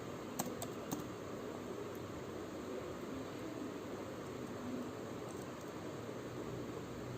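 A few faint, sparse keystrokes on a computer keyboard tap out over a quiet background hiss.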